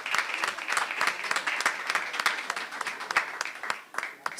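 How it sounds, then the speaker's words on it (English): Applause at a school board meeting, a room of people clapping with sharp individual claps standing out from a steady patter, moderately loud and tapering slightly near the end. "Please give Dr. Cisello and Ms. Unger another round of applause."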